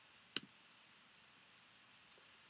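Two quiet, crisp computer mouse clicks on a login button, the first a sharp click with a faint rattle after it and the second a lone click about two seconds later, over a low room hiss.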